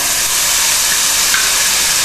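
Capsicum sizzles in a hot pan, a steady, close, bright hiss of frying that holds without a break.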